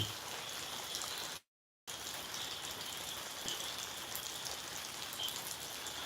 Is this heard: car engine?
no